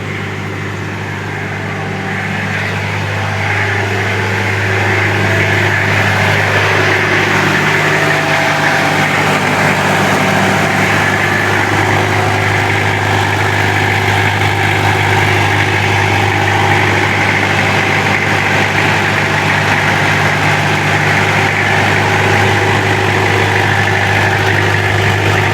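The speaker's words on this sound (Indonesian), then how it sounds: "Ini knalpotnya" A 1999 Toyota Kijang fitted with a Blackcore exhaust idles close by, a loud, steady low rumble and hum that holds evenly throughout with no revving.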